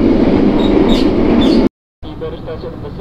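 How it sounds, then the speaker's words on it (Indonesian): The Tegal Express passenger train rumbles along with a loud, continuous rolling roar, then cuts to a brief silence before a quieter stretch of running noise resumes. "kereta api Tegal Express sudah tiba di stasiun Cikampek"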